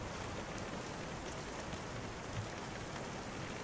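Steady, dense rain falls continuously as an even hiss of drops on a surface, quiet and unbroken with no voices or thunder.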